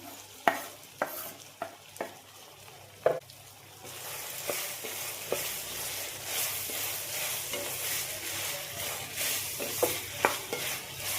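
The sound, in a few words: onions sautéing in chili paste in a pan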